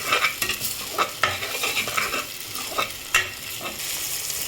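Ginger-garlic paste is stirred in a hot frying pan, with repeated scraping strokes and a steady sizzle underneath, close and fairly loud, with no talking.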